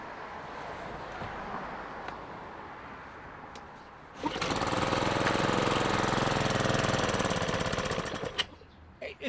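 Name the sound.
vehicle engine starting and running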